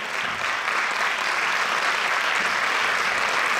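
A large audience applauding a choir at a Christmas singing event, dense and sustained clapping that holds loud and steady throughout, close and without pause.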